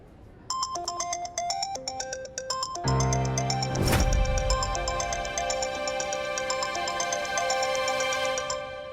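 A phone ringtone plays a bright repeating melody, then a fuller, louder ring continues steadily for several seconds with no one answering and no talk.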